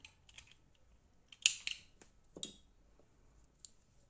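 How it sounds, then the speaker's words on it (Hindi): Scissors cutting wool yarn at a crochet project: a few quiet, crisp metallic snips and clicks close by, with two sharper cuts in the middle and soft handling sounds between them. "इस ऊन को काट लेंगे हम।"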